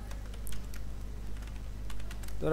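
A name is typed into MS Word on a computer keyboard: a quick run of light, close key clicks over a low steady hum, with no talking.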